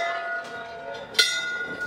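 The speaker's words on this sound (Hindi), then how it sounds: "घंटी बजा के चलते हैं भाई" A metal temple bell rings with a sustained, bright tone inside a temple during Janmashtami, and one sharper strike comes partway through the ringing.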